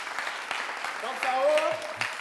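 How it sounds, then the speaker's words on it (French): A studio audience on a TV entertainment show claps for guests. The applause is a soft, continuous patter beneath a speaking voice and stays fairly level throughout. "merci de les applaudir"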